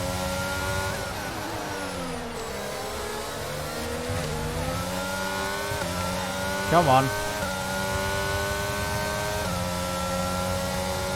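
Formula 1 car engine in the F1 22 racing game, a steady high whining drone that climbs and shifts pitch through gear changes, with a brief burst partway through and a voice speaking over it.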